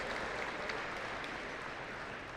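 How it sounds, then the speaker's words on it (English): Steady applause from an audience honoring placers at the NFAA indoor national archery championship shoot-offs, a dense, even wash of clapping lasting throughout at moderate level. "Give a big round of applause to Olivia Dean, 3rd place."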